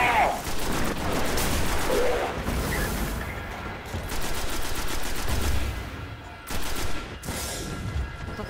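Heavy rapid gunfire in the Destiny video game, loud bursts rattling almost continuously with short gaps and a few booming impacts.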